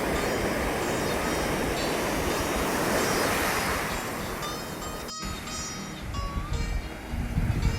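Surf at a Jersey Shore beach washes in as a broad, rushing roar that eases partway through, with wind buffeting the microphone and faint tonal sounds later on.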